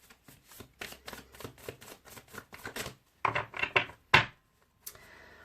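Tarot cards of a Moonology deck being shuffled and handled, a run of quick close riffling flicks followed by a few louder slaps and taps as the cards drop, with no voices.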